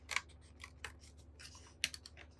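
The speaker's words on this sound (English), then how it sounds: "So we're gonna cut the tab off of the September." Scissors trim the tab off a planner's September page in a quiet room, making a few crisp, faint snips spaced irregularly, with a final sharp cut near the end.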